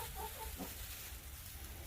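A chicken gives a few soft, quick clucks at close range inside a farm barn, faint against a low background rumble.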